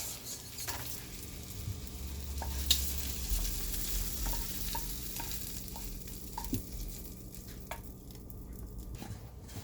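Shrimp and tortellini alfredo sizzle and fry in a pan, a steady soft crackle with scattered pops and light stirring scrapes throughout, no voices.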